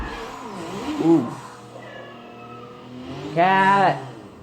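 A pet cat meows twice, close and fairly loud, over a steady racing-game car engine drone from Forza Motorsport 6, the second meow longer and more drawn out.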